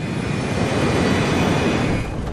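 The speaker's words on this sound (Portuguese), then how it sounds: "o avião começa a percorrer a pista" An airliner rolls down the runway on its takeoff run at full power, a steady loud broadband roar of engines and rumble that holds evenly throughout, with no voices.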